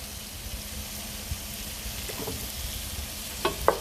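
Jasmine rice with parsley cooking in a hot pan gives a quiet, steady sizzle, with a few soft scraping stirs and light clinks near the end.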